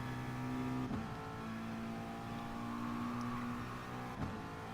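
A McLaren GR4 race car engine in Gran Turismo Sport holds a steady high whine, with two sharp gear-change dips that briefly drop the pitch before it climbs again, loud and close with no voices.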